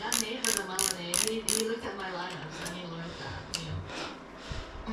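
A ratchet socket wrench clicks in several quick bursts early on, then gives scattered ratcheting and metal handling sounds while someone talks over it, during work on a Behringer X32 Compact mixer teardown.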